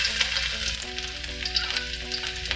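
Onions stir-fried in a pan for a chayote and carrot sauté, a loud, steady sizzle close up, with scraping stirring noises and faint tonal hum underneath.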